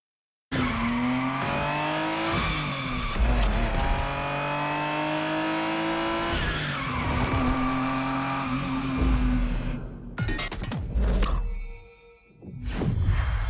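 Ferrari Testarossa driving in The Crew Motorfest, its engine roaring loud and continuous with rising and falling revs, tire squeal and skidding mixed in, then a brief dip and a sharp surge near the end.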